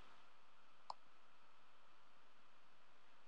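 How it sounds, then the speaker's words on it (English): A single sharp computer mouse click lands early, quick and distinct against a faint steady hiss, with no other activity around it. "When you're happy with that, you can click on Done."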